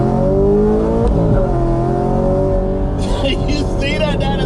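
A car on Nitto 555R2 drag radial tires pulls hard in first gear from about 30 mph, its engine note climbing steadily and loud beneath someone talking throughout.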